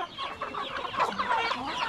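Chickens cluck close by on a farm, a run of short, busy calls with no talk over them.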